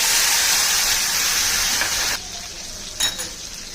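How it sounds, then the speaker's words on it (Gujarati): Finely chopped tomato drops into a pan of frying mustard-seed tempering with asafoetida, setting off a loud, steady sizzle that suddenly softens partway through, followed by a brief clink of a utensil. "એ ઝીણું ચોપ કરીને નાખીશું."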